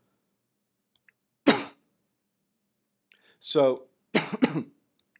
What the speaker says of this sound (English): sorry about that little cough there